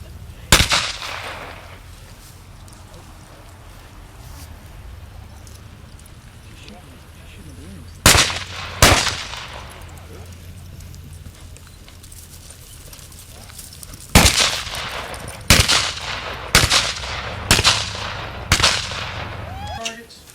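Pistol fire at an outdoor shooting range during a club picnic, with sharp, loud gunshots, a few isolated ones early and then a quicker run of five or six near the end, over low rumbling background noise.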